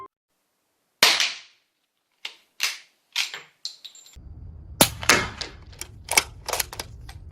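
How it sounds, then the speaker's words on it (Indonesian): Suppressed B&T SPR300 rifle fired several times, each shot a quiet, dry crack much like a clap or a cocking click, sounding in an irregular run with faint background noise behind the later shots. "tembakan senapan ini hampir sama dengan suara saat mengokang, bahkan lebih sunyi dari suara tepuk tangan"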